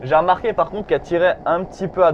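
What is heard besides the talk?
None of the usual background noises is heard.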